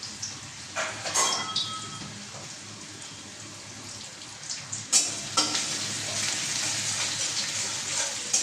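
Tomato being stirred into food frying in a pan, steady sizzling with intermittent scraping and clattering stir strokes, close and fairly loud.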